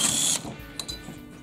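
A ratcheting tool with a power-tool whir removes four millimeter Allen head screws from the cylinder of an Echo SRM-280 weed trimmer, a brief loud burst followed by a few faint clicks.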